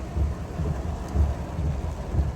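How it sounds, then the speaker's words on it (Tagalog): Heavy rain pours down outside during a strong downpour, a dense wash of noise with low rumbling gusts swelling and fading every second or so, close and continuous, no voices. "pumapasok yung tubig dahil sobrang lakas ng ulan ngayon"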